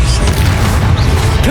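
An Incendio fire spell cast in Hogwarts Legacy, a loud, heavy whooshing burst of flame with low rumbling impacts, continuous and close for a moment.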